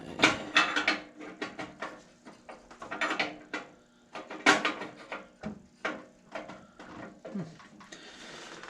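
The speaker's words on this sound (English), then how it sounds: "Okay, let's put this nozzle in here." A nozzle being fitted back into a torpedo heater during a no-start repair, heard as a run of close, sharp metallic clicks, taps and scrapes in an irregular rhythm, with no talking.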